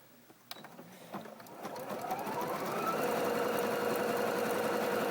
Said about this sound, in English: we'll go ahead and do a zigzag stitch